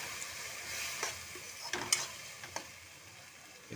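Egg and tomato fry in a pan with a soft, quiet sizzle, punctuated by a few scraping clicks of stirring.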